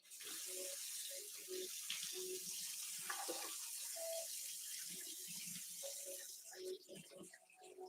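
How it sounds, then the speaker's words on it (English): Water pours into a small bowl, a soft trickling splash with brief irregular bursts. The pour is fairly quiet and fades toward the end, with some faint kitchen clatter. "I just added some water to this."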